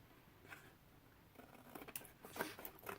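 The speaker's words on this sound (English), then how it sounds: "And these are paper scissors. And I'm going to cut to make a nice little clean edge" Paper scissors snipping along a paper edge to trim a clean border for paper quilting, a few soft, close crisp cuts and rustles growing denser toward the end.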